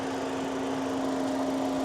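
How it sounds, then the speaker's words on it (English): Turbocharged Buick Regal engine running steadily at idle, a constant droning hum with a strong sustained tone, close and unbroken with no talk. "That's a good sounding engine for the most part."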